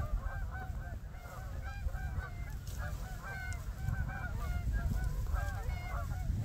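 Canada geese honking as they fly in, a dense overlapping chorus of repeated nasal honks over steady wind-like rumble, fairly close and continuous.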